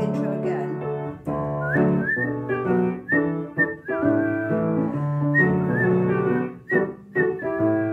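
A group of people whistles a melody along with backing music at a singalong session, the clear whistled notes rising and falling in a tuneful phrase that runs across the whole stretch.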